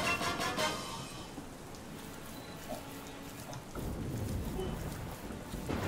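Rainfall in the Wild Area of the Pokemon Sword video game, a soft steady patter of rain at low level with faint game tones beneath it.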